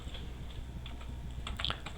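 Computer keyboard being typed on to enter a file name, a quick run of light, close clicking keystrokes in an irregular rhythm, fairly quiet, with no voices.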